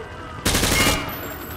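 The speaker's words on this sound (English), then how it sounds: "Grab that weapon off the table and fire at the targets behind you." Gunfire from a weapon fired from the hip in the video game Call of Duty: Modern Warfare 2, a short loud burst of about half a second, close up over a low background hum.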